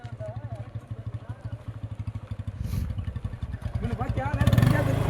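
A motor vehicle comes up from behind people walking. Its pulsing, clattery engine beat grows steadily louder as it nears, with voices heard over it.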